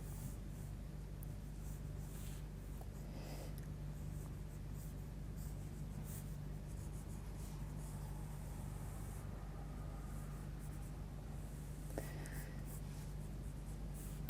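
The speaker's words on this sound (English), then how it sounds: "we'll just quickly draw in the rough shape of a pepper" Coloursoft coloured pencil scratches steadily across a black sketch pad while roughing in the shape of a pepper, a soft continuous scribbling close by over a constant low hum.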